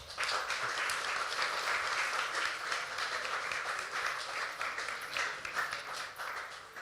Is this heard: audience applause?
yes